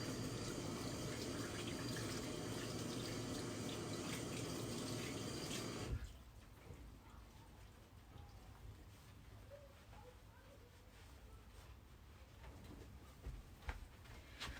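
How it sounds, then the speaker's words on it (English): A bathroom tap runs loudly as hands are rinsed under the water to wash off a hand exfoliant, then shuts off about halfway through, leaving quiet room noise and faint handling sounds. "I'm going to go wash it off"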